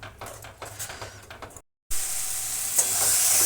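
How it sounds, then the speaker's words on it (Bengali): A spice masala of turmeric and a little sugar is stirred and fried in a pan, giving a close scraping stir and a sizzle. A brief silent gap follows, then a steadier, brighter frying hiss. "মশলাটা এবার খুব ভালো করে কষিয়ে নেব।"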